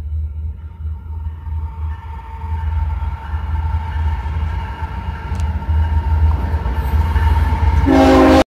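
A freight-style train rumbles close by with steady low engine drone, then its unusual-sounding horn blasts loudly near the end, a sustained tonal honk over the rumbling.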